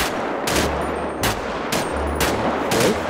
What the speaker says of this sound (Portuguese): Eu vou querer que você dê um tiro... Em todos os alvos com o X, correto?